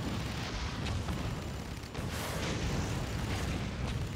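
Bomb explosions from the video game Spore: a dense, continuous rumbling roar of blasts with small booming swells, steady and moderately loud throughout.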